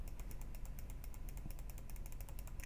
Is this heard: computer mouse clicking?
yes